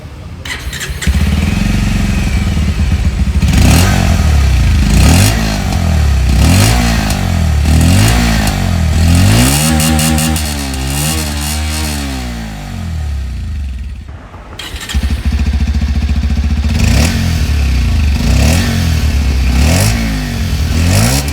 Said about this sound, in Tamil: ஸோ எக்ஸாஸ்ட் நோட் எப்படி இருக்குன்னு சொல்லி கேட்டுருங்க.